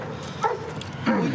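A police dog barks in short, sharp bursts during an arrest, two loud yelps standing out over steady background noise and commotion.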